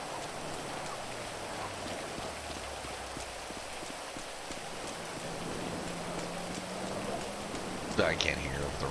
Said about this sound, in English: I can't hear over the rain. It's fucking stupidly loud.